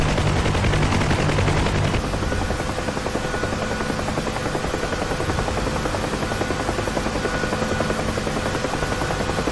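A UH-1 helicopter in the game DCS gives a loud, steady rotor rumble with a dense chopping beat and engine drone, filling the whole stretch without voices.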